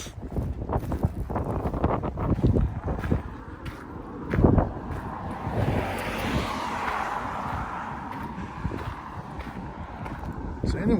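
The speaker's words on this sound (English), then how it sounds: "It's just way, way too windy." Strong gusting wind buffets the microphone at the Lover's Leap overlook, rumbling in uneven surges with a louder thump midway, under occasional talk.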